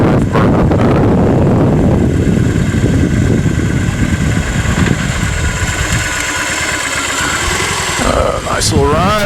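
Motorcycle ride with a steady engine drone mixed with heavy wind rush on the microphone, close and loud throughout, with a voice briefly audible near the end.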